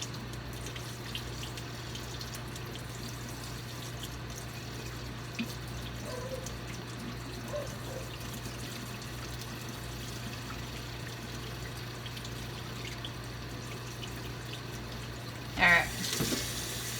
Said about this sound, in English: So run the hot water through the tubing first.